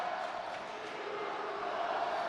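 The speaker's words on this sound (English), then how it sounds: "And this New Rochelle crowd is erupting in a state of cheers." A home crowd cheering at a high school basketball game between New Rochelle and Kingston, a dense, steady roar of many voices filling the gym for the whole moment.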